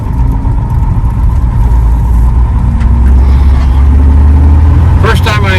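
A 1950 Dodge Wayfarer two-door sedan idles, then pulls away, its engine a steady, loud low rumble close by, with someone talking over it near the end.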